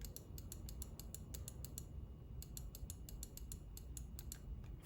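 Quick repeated clicks from a Pulsar Xlite V2 gaming mouse button, sharp and near, arriving in two rhythmic bursts over a low constant hum.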